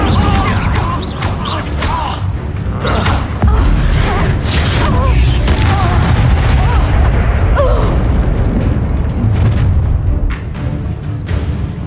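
Incendio fire spell cast in the Hogwarts Legacy video game, a loud booming burst amid continuous dense battle noise with crackling impacts, lasting throughout without a break.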